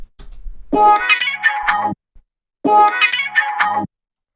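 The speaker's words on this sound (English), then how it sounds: "the next thing that we have here is the sample stab" Two identical bright, brassy disco-style sample stabs from a tech house track, each lasting about a second, separated by a short silence, loud and punchy.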